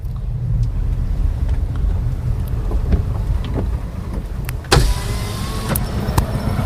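Cars and bikes pass along a road in the Kokapet area of Hyderabad, a continuous low traffic rumble with wind buffeting the microphone and a few sharp clicks.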